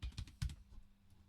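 Quick keystrokes on a computer keyboard, a handful of soft clicks in the first half second that trail off into quiet.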